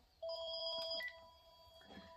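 A telephone rings with a steady electronic tone lasting about a second, then fades into a quieter continuing ring, heard alone and fairly faint.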